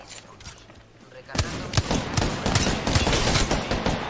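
Gunfire in a shooter video game, a sudden burst of shots starting after a quiet second, then a steady string of loud, closely spaced cracks, with a voice talking over the action.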